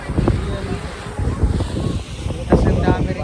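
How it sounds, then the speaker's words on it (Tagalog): Strong gusts of wind at Cyprus Lake, Tobermory, buffet the microphone in low rumbling bursts, with a person talking over the blustery roar. "Lakas ng hangin."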